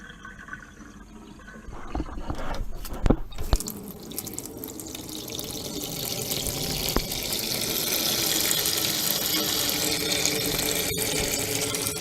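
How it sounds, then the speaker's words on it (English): Fresh warm water runs from a tap to refill a sink for cleaning a metal detector coil, a steady close rushing and splashing that grows fuller as the basin fills, heard alone without talk. "Once it's all gone, refill your sink with fresh warm water"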